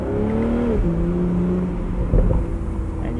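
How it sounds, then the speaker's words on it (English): A 2023 BMW Z4 M40i in sport mode lets its engine note fall off the throttle, followed by a brief cluster of popping exhaust burbles before the drone resumes, loud and close. "And you can hear in sport mode we get some really nice burbles on the overrun."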